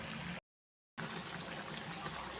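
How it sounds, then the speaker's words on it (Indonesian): Gambas vegetable soup with plenty of broth boiling in a pan, a steady, close bubbling and watery churn that continues throughout with no talking. "ini sudah mendidih, sepertinya sebentar lagi ya teman-teman, sudah mateng"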